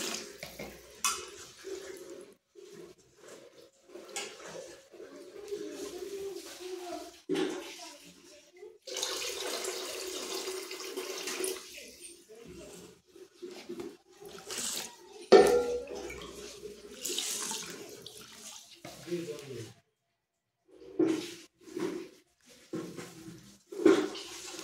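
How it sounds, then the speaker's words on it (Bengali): Rice being washed in water for a cauliflower and shrimp dish, with intermittent splashing, swirling and trickling water in a pot or sink, fairly faint and uneven with pauses between bursts. "এই যে চাল ধোয়া চলছে"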